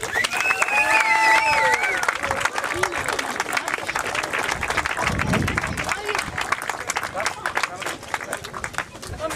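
Steady applause from a crowd fills the whole stretch, with scattered cheers and talk mixed in over the clapping, at a motocross championship prize-giving for the 85 cc class in Iceland.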